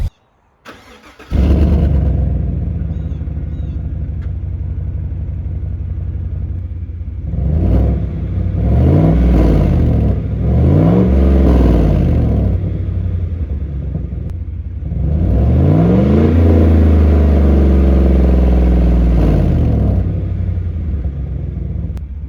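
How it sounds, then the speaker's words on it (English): A GMC Sierra pickup with its stock exhaust cold-starts with a loud, close rumble, then settles into a deep idle broken by several rising and falling revs and a final sustained rev. "So we're gonna fire it up, do a nice little cold start, maybe a few revs."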